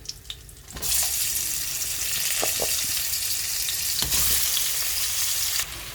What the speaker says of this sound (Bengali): এইবার আলু আর কুমড়োগুলো দিয়ে দেবো কড়াইতে আলু আর দিচ্ছি কুমড়ো